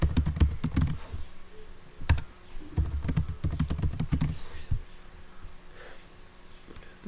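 A client ID is typed on a computer keyboard in quick, close bursts of clicking keystrokes with short pauses between, ending in a few sparse taps.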